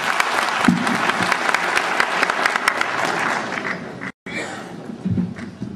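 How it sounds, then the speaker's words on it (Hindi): An audience at a Dhanuk Samaj gathering in Patna in 2009 gives loud, sustained applause. The steady clapping cuts out for a moment near the end, then picks up again. "जोरदार ताली से स्वागत कीजिए।"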